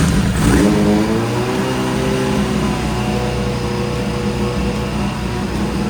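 A Suzuki Bandit motorcycle engine on full choke, back running after sitting abandoned, catches and revs loud and close, settling into a steady high idle with rising and falling pitch.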